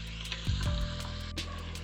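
Country chicken biryani base frying in a pot, a short burst of close sizzling with a few stirring knocks and scrapes, and no talking.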